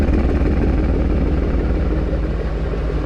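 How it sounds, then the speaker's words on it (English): A 2008 Ford Mustang Bullitt idling with an aftermarket FR500S exhaust, a loud, close, deep steady rumble with no voices. "FR500S exhaust installed."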